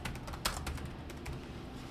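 Quiet keystrokes clatter on a computer keyboard in a steady run of close, soft clicks, with one slightly sharper tap partway through and no voices.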